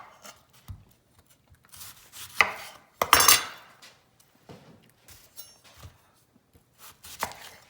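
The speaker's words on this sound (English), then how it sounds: "I'm going to chop up my red onion" A knife chops red onion on a cutting board in a home kitchen, giving sparse, sharp thuds and scrapes at irregular intervals, with a louder cluster of cuts near the middle, close and alone without talk.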